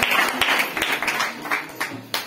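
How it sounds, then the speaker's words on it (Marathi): A crowd claps for a women's dance troupe at a Mangalagaur festival performance, a brief burst of several uneven waves of hand claps, fairly close and lively, lasting only a couple of seconds. "या मंडळासाठी एकदा जोरदार टाळ्या होत जाऊ दे."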